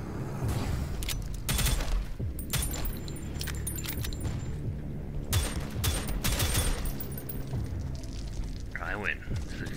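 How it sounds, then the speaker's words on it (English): Rapid bursts of gunfire from the shooter game Prodeus crack loudly and repeatedly in a close shootout, dense volleys with brief gaps, while a player talks over the action. "This is a shootout. And I win shootouts. Most because I have a gun."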